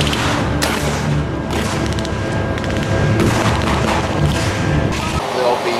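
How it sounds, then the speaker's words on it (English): Simulated tank gun fire made with propane and oxygen at a WW2 tank battalion display: a series of deep booms and blasts, several overlapping reports scattered across a noisy outdoor scene, loud and somewhat distant. "They'll be firing simulated fire, which is propane oxygen, and a big cloud of smoke comes out."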